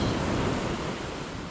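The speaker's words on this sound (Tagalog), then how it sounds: "Maganda rin yung dagat." Sea waves washing onto Aninuan Beach in Puerto Galera, a continuous, close surf roar with wind buffeting the microphone and no talk.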